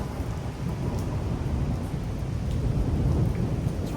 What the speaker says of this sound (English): It's raining pretty hard here.